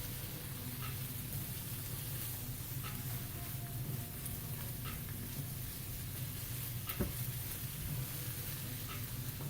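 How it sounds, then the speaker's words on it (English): Onions and peppers sizzle steadily in a skillet, a soft continuous crackling hiss with faint scattered pops, close and even throughout with no talking. "just the smell and the sound of peppers and onions sizzling is one of my favorite things"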